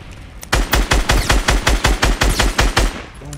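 Automatic gunfire in the Fortnite video game at Tilted Towers, a rapid, loud burst of about a dozen evenly spaced shots that starts suddenly and stops after about two and a half seconds.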